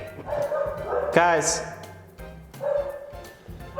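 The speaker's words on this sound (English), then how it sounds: "Sorry about the dogs." Several dogs bark and yip in short bursts, with one sharp, loud bark standing out mid-clip, heard close by over a person talking in a workshop.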